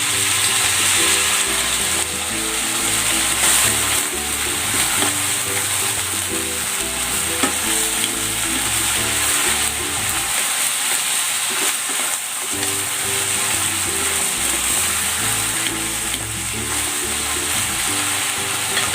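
Beef and onion stir fry sizzling steadily in a pan as homemade sauce is poured in, continuous loud frying hiss with stirring clatter throughout.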